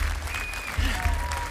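A studio audience applauds climbers on a climbing wall at a game show, a steady wash of clapping and crowd noise with a low rumble underneath and a voice briefly heard.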